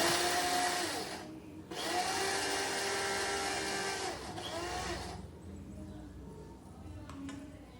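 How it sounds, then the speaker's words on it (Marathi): Mixer grinder whirring loudly as it grinds roasted ladoo ingredients for Govind ladoo, steady motor drone with a brief pause and restart, then tapering to a lower hum near the end. "आता हे सगळं आपल्याला मिक्सरला बारीक करून घ्यायचं"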